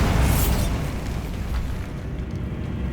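A Bombarda spell explosion in the Hogwarts Legacy video game, a loud, dense rumbling blast that is strongest at the start and gradually fades over a few seconds.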